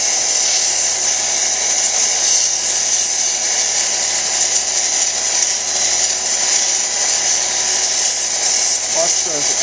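Lapidary wheel sanding a freeform stone cabochon at 1200 grit, a loud, continuous, close whirring hiss that holds steady throughout with no pauses.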